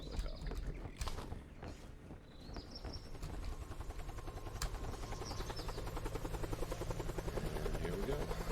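A helicopter in the video game Chained Together, its rotor thumps and engine whine building up and holding steady, with a few clanks and a brief voice early on.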